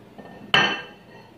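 Dishes being unloaded from a dishwasher, marked by one sharp ringing clink of crockery or metal that fades over a fraction of a second in a quiet room.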